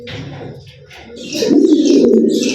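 A pair of pigeons coos nearby, with soft low murmuring calls at first that grow louder and fuller in the second half, mixed with faint chirps.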